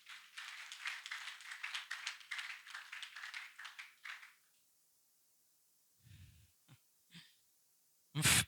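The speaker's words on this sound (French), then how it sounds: "On applaudit Jésus pour ça." A church congregation claps together during a sermon, a burst of rapid overlapping clapping lasting several seconds that stops abruptly, followed by near silence with a few faint thumps and taps.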